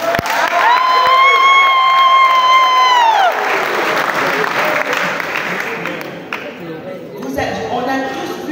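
Staff at a Gabon TV leadership handover loudly applaud and cheer their departing director general. A sustained whistle-like tone rings out early, and scattered shouts and voices mix with the steady clapping.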